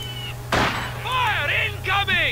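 A single heavy artillery blast lands in Company of Heroes 2, with a sharp onset and a fading rumble. A voice is heard afterward over the game's steady background hum.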